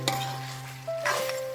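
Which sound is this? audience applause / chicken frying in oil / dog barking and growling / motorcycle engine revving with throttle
chicken frying in oil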